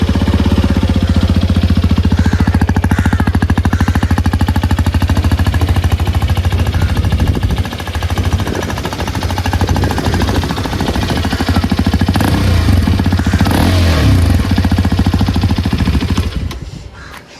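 A Hero Xpulse 210 motorcycle engine runs close up with a loud, steady, rapid thumping idle, briefly dipping before settling back into the same hard, continuous throb and fading at the end.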